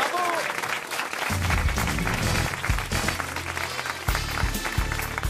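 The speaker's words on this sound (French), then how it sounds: "Vous partez à Cannes, Nathalie, on vous applaudit, bravo." Studio audience applauding on a French radio comedy show, dense steady clapping over background music, fairly loud and continuous throughout.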